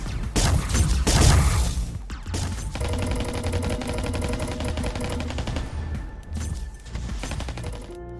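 Rapid automatic gunfire rattles from a fast-paced VR shooter game, with dense bursts of shots and clanking effects running almost continuously, loud and close.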